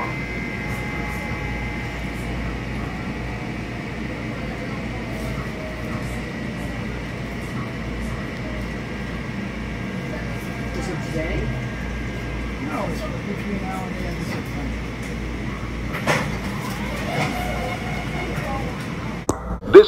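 A Metro-North Harlem Line train rides between stations: a steady low rumble of wheels and carriage fills the cabin, with a few sharp clicks and rattles near the end.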